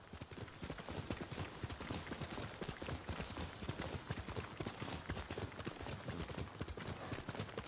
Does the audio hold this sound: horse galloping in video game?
yes